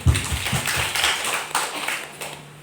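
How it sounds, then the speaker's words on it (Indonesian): An audience at a village land-title certificate handover claps for the head of the land office, a brief burst of close, loud applause that thins out within a few seconds. "Memberikan aplaus kepada Kepala Kantor."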